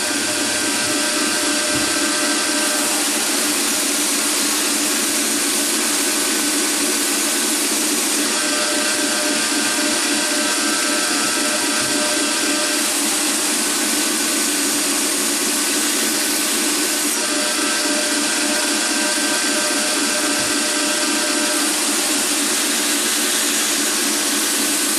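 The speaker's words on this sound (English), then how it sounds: "Now when I traverse the blade, the grinding away, it'll all come out." A bench grinder roughs a hollow grind into a knife blade after heat treatment, a steady broadband whine and rasp holding continuously and close, with slight shifts as the blade traverses.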